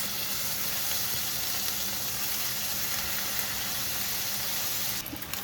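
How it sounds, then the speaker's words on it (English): Ham slices fry in a hot skillet, a steady close hiss of sizzling fat that holds evenly throughout, with a brief clatter near the end. "now the skillet is pretty hot. I'm just gonna lay the pieces of ham, fitting as much as I can in there at once"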